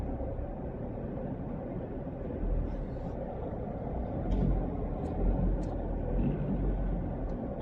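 Heavy road traffic of cars and trucks crawling up a hill, with a sluggish, heavily loaded vehicle straining to climb on a Philippine loop road, heard as a steady, dense low rumble with brief louder surges and faint clicks.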